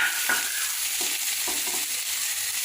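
Potatoes being fried in a pan while a catfish curry is made, giving a steady, close sizzle with faint stirring scrapes throughout and no talking.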